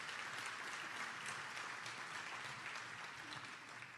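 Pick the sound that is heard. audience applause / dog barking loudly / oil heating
audience applause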